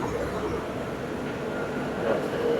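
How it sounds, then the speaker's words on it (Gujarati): A double-decker train passes near a highway on the Bhuj–Surat route, heard from inside a moving bus as a steady, broad rumble that holds through the stretch with no talk. "ડબલ ડેકર ટ્રેન જોઈ લો"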